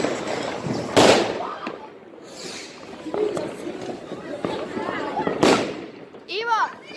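Firework battery (rafal) going off during a New Year celebration, two sharp, loud bangs a few seconds apart with crackling in between, while people talk nearby.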